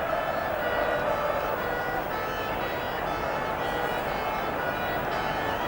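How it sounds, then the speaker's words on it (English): Ambulance siren at a football stadium during a crowd disaster, a steady wailing tone heard moderately loud over a wash of crowd and ambient noise, continuous throughout. "the first ambulance has come onto the pitch"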